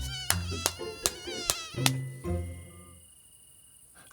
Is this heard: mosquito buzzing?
yes